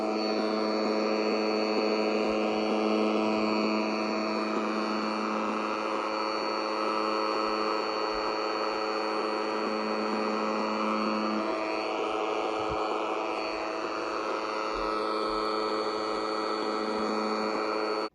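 A homemade metal detector gives a steady, flat electronic tone, a constant loud hum with layered harmonics that drifts only subtly in pitch over several seconds.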